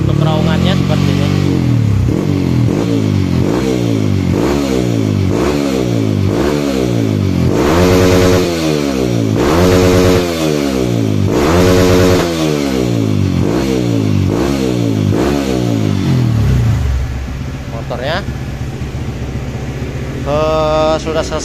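A Honda CRF motorcycle with a 66mm piston revving on a dyno, loud repeated rising and falling throttle blips in a steady rhythm, then settling to a lower idle near the end.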